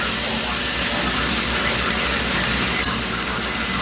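Beef stew vegetables being stirred in a pot, with continuous close, wet churning and scraping and a brief clatter near the end.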